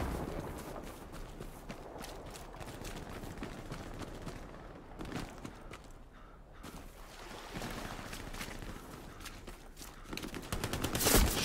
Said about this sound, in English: Machine gun fire on me.